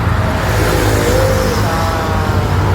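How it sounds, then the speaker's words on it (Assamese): A car engine drones loudly and steadily on a road, a close, continuous low rumble with no speech over it. "এই গাড়ী চাউণ্ড দেখিছে না?"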